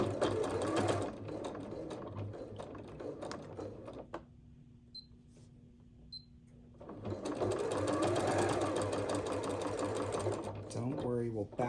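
A sewing machine fitted with a walking foot stitches a sweater in two close, steady whirring runs separated by a pause, with someone talking alongside.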